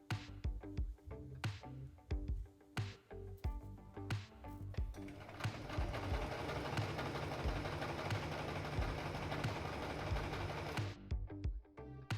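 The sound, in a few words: sewing machine sewing pinned silk blouse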